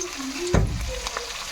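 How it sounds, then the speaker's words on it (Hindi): Onion fries lightly in a pan for pasta, giving a soft steady sizzle broken by one sharp stir or clatter near the start. "हल्का भूनना है प्याज ला"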